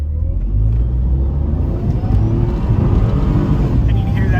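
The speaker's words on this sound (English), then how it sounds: "you can hear that supercharger line up." Mercedes C32 AMG with a Carlsson-tuned supercharger accelerating on the road, a steady engine rumble and whir building up close and loud, with faint higher whine above it and no talk.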